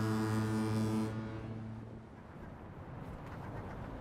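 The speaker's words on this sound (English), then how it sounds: "Right here is one of our fog horns." A bridge foghorn blasts a deep, loud, steady tone for about a second, then its echo and hiss fade out across open water.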